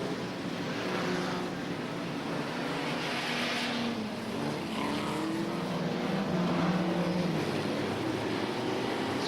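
Banger racing cars circling a speedway track at Ipswich, including a battered Daimler, give a steady, loud engine roar that stays continuous throughout with no talk over it.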